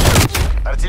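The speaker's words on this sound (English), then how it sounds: "Hostile sentry turret active." Sentry turret opening fire in Call of Duty Black Ops Cold War, a loud, dense burst of automatic gunfire that briefly cuts out and resumes, with game sounds layered over it.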